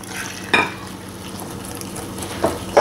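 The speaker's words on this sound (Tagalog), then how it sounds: "i-mix lang natin to continuously hanggang maging smooth and lump-free na siya" Flour batter and water being mixed for Filipino-style crispy chicken, soft stirring with a few sharp clinks of utensil against the bowl.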